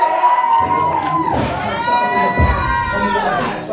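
Loud cheering and shouting from a wrestling crowd on their feet, with whoops and raised voices swelling over a continuous crowd roar.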